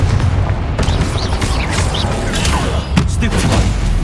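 A Confringo spell blast in Hogwarts Legacy goes off amid loud, continuous combat, with booming, gunfire-like impacts and thuds in a dense, close mix.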